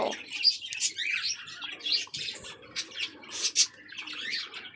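Budgerigars in cages chatter and chirp nonstop at close range, a dense flock of high, squeaky calls overlapping without pause.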